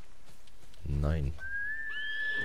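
A single horse whinny in Ghost of Tsushima rises and trembles for about half a second over a steady background hum, followed by a thin, high whistling tone.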